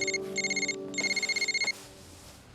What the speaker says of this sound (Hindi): दीदी फोन।